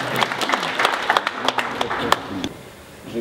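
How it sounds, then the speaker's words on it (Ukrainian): Audience clapping in a hall at an official gathering, a burst of scattered applause that thins out and fades, with some talk underneath. "продовжительні і бурні аплодисменти"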